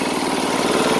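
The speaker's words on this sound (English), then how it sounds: "motor's running, son of a bitch is turning" A swapped-in small engine runs steadily on a Montgomery Ward snowblower, a loud, close, continuous mechanical drone with an even, rapid idle-like pulse and no voices.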